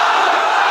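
A packed crowd gathered in a pandal for a religious talk shouts the takbir together, producing a brief, loud, unified roar that stays at full strength the whole time.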